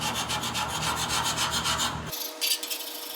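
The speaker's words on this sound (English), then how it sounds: "let's give it some scrapes" A hand scraper rasps across a heavily rusted Toyota frame, producing repeated gritty strokes in a steady rhythm close by, then the scraping stops and a lighter scratch follows.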